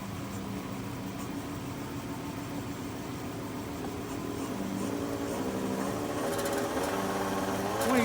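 A wood lathe spins a pen blank for a Freedom Pen at reduced speed, giving a steady mechanical whir that grows louder and brighter toward the end as the speed climbs.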